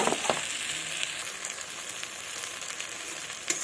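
Fried ridge gourd going into a pan of well-cooked, sizzling masala for a fish curry, giving a steady close frying hiss with a couple of brief clatters and no talk.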